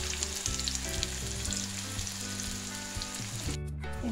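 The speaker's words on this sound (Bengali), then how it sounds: "আরেকটা পিঠ লাল করে ভাজা হবে।" Prawn and lentil fritters (kucho chingri bora made with masoor dal) sizzle steadily in hot oil, a close, continuous frying crackle with faint clinks and stirring sounds, no talking.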